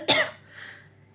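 A single short cough bursts out close by, followed by a faint trailing throat sound and quiet, sounding like an adult imitating a cough during a children's story reading.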